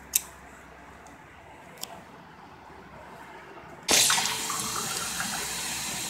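Water from a Chinese water filter tap, quiet handling clicks at first, then a sudden loud, steady gush of running water that continues to the end.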